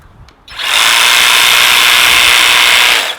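A Husqvarna battery hedge trimmer switches on after a click and runs at full power, a loud high-pitched buzzing whine held steady for nearly three seconds before winding down, close and alone.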